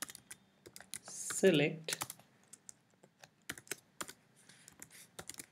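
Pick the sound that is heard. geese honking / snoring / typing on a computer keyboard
typing on a computer keyboard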